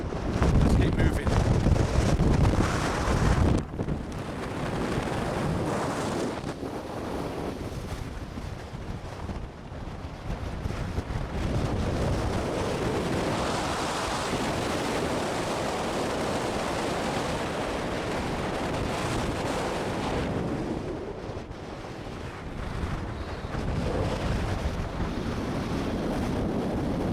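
Strong, steady wind on a winter mountain roars and buffets the microphone throughout, with a heavy gusty rumble that eases briefly before building again.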